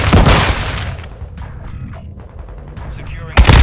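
Rapid gunfire and booming shots in a military shooter video game, loud bursts at the start and again at the end with quieter shooting between, under voices.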